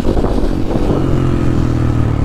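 A motorcycle accelerating hard on an open road, its engine roaring loud and close throughout in a steady, throaty drone.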